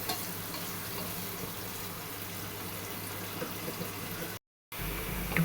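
Onions frying in a pan for a Bengali-style beef curry: a steady, close sizzle with a constant frying hiss and light stirring, cut off by a brief silent gap near the end before the sizzle returns.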